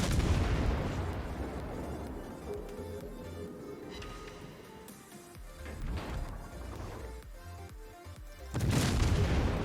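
Naval gunfire from a Benson destroyer engaging an enemy ship in World of Warships, heavy booms and rumbling blasts stacking over a dense continuous battle din, with a loud fresh burst near the end.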